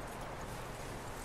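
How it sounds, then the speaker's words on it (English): Horse hooves clip-clop steadily in Red Dead Redemption 2, a continuous close gait running the whole moment with no voices over it. "That looks like a decent horse. You should keep him."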